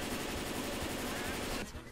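Sustained rapid automatic gunfire from a zombie shooter game, Left 4 Dead 2, as a dense loud burst that runs almost without pause before cutting off near the end.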